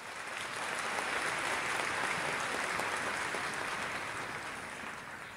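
Sustained audience applause at a Japanese talk event fills the room steadily, a dense even wash of many hands clapping that swells slightly and then eases toward the end.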